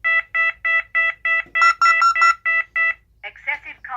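Carbon monoxide alarm on a Tyco/ADT Safewatch Pro 3000EN security panel sounding a loud, rapid series of identical electronic beeps, then a synthesized voice starting a warning announcement.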